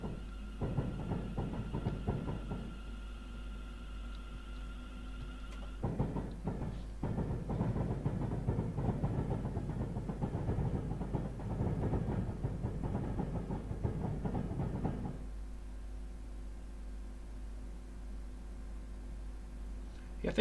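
A Pendolino passenger train rolls past in the Train Sim 2020 game on the Northampton to London Euston line, a steady rail rumble that swells into a louder, denser passage in the middle and then settles back to a constant hum.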